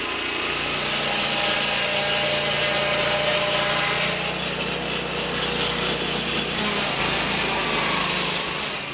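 A mobile saw chews through timber in a Cameroonian forest, its high engine whine loud and sustained, the pitch shifting slightly as the blade works through the wood.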